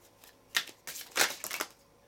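A deck of tarot cards is shuffled briefly in a few quick riffling bursts, close and fairly crisp, with no one talking.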